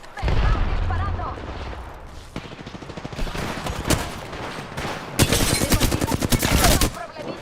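Dense bursts of rapid automatic gunfire rattle through a video game shooter, coming loud and close in clusters with brief gaps between them and heavy stretches of sustained fire near the end, while game voice lines speak over the shooting.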